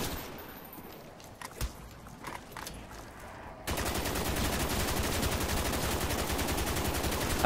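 An RPK machine gun fires in a zombie video game, starting halfway through as dense, continuous rapid fire that holds steady to the end, after quieter game sounds with a few faint thumps and footsteps.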